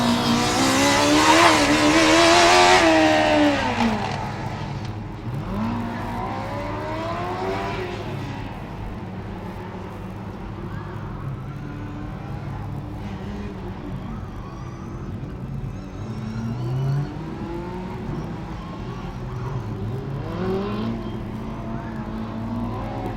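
A Formula Student race car with a big rear wing runs an autocross course with a slalom, its high-revving engine loud and near at first and then sweeping up and down through gear changes as it drives farther off.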